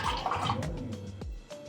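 Water pours quickly into a container on a Gaggia Classic espresso setup, a short splashing gush with a brief gurgle near the end, close and moderately loud.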